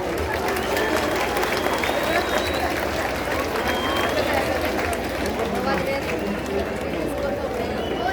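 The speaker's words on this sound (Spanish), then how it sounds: "brindémosles un fuerte aplauso" A crowd applauding at an outdoor Day of the Dead event in Zapotlanejo, Jalisco, a dense, steady wash of clapping mixed with crowd murmur and voices, loud and sustained throughout.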